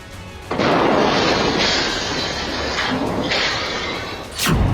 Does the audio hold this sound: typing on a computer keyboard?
no